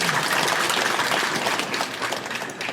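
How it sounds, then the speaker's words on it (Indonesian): Steady applause from a crowd at a Hindu dharma talk fills the whole stretch, dense and even, tapering slightly toward the end. "Tepuk tangan untuk kita."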